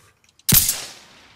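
A single sharp gunshot rings out in the video game Insurgency Sandstorm, a loud close crack after a few faint ticks, followed by a short decaying echo.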